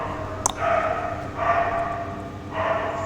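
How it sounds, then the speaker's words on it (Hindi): Several dogs bark in repeated bursts at a moderate distance, three main volleys over a few seconds with a sharper yip near the start, heard against steady background noise with no talk. "कुत्ते भौंक रहे हैं।"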